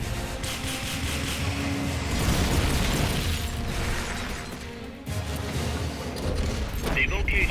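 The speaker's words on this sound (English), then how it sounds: "Rocket launcher" A rocket launcher fires in Metal Gear Solid, with loud blasts, bursts and mechanical clanks over a constant roar of game sound. A voice speaks partway through.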